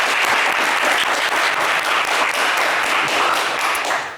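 Loud, dense applause from a game show studio audience for contestants, continuous and full from start to finish with no talk over it.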